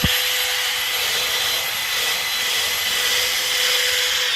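A drill bit grinds steadily into a cast iron drain hub packed with lead, boring and linking holes by rocking the bit, a continuous close, loud abrasive whine and rasp with no pauses.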